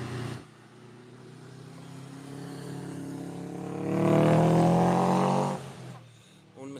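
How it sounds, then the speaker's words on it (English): A Subaru car driving along the Nürburgring, its engine note rising from a steady distant drone to a louder, nearer pass around the middle before fading away, with no talking over it. "It's a nice Subaru."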